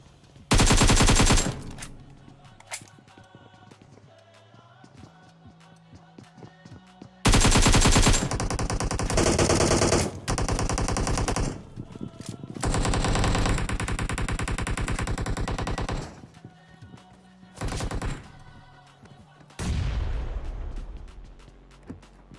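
Gunfire in the BGMI mobile battle royale game, with loud sustained automatic bursts separated by quieter gaps with scattered single shots, repeated several times across the clip, without talking.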